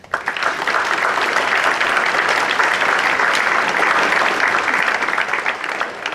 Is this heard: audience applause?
yes